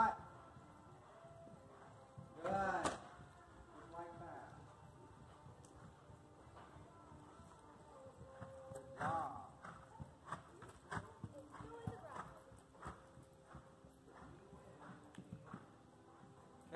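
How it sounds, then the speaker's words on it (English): Horse hooves clip-clop in a steady trot through a riding lesson, with a louder hoof strike or two standing out, while an instructor talks over the footfalls. "Okay, come back down to an easy trot."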